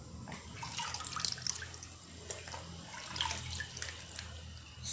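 An opened sea urchin is rinsed under water, producing a faint, uneven splashing and trickling with irregular drips, soft and close.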